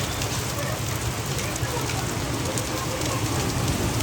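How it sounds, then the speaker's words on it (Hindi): Heavy rain driven by strong wind in Dehradun, with hail falling on crops, a dense continuous roar of pouring water and gusts, loud and unbroken throughout. "हवा और बारिश देखो भाई, बहुत तेज बारिश है, बहुत तेज।"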